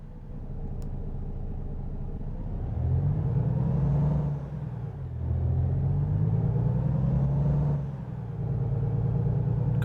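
A Volvo truck engine in American Truck Simulator drones with a low, steady rumble that swells twice as it revs up and settles, heard with the cab window open and no talking.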